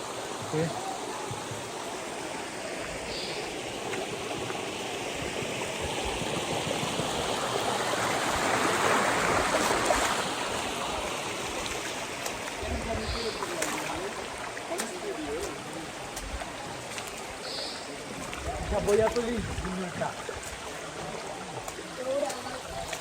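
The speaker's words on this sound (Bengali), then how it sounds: "আমার পিছনে ওই দেখতে পাচ্ছেন, এটা হচ্ছে সেই সুপ্তধারা ঝর্ণা।" Suptadhara waterfall in Bangladesh, running with little water, gives a steady, even rush of falling water that fills the whole scene, swelling slightly midway, with a voice faintly present at times.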